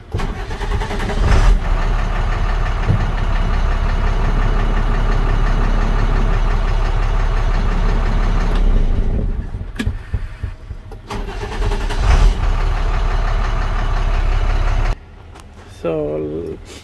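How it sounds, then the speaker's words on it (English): An International truck with an electrical fault runs loudly after starting, its engine rumbling steadily, dipping and catching again, then cutting out abruptly near the end while people speak. "So now the truck starts."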